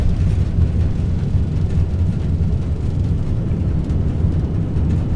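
Boeing 787-9 Dreamliner on landing roll with thrust reversers deployed, in X-Plane 11: a steady, loud low-frequency roar and rumble of engine reverse thrust, continuous and close, with no talking.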